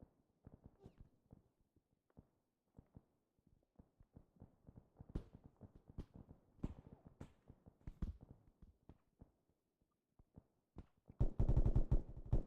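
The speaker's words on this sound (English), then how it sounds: "I'm under heavy fire" Gunfire in the military shooter game ArmA 3, scattered single shots and short bursts popping at varying distances, growing denser into a heavy rattle of rapid fire at the end, with a voice speaking faintly at times.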